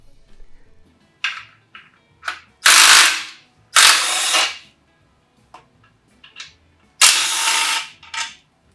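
A ratchet works loose the fasteners on a 700 automatic transmission, with loud bursts of fast clicking spins interspersed with short single clicks and quiet gaps, close-up in a workshop.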